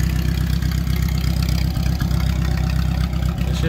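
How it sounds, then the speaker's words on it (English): A classic tractor idles with its PTO hooked to a modern disc mower, the engine chugging in a steady, loud, low rumble with a slight periodic lope and no voices over it. "All right, I got the PTO hooked up."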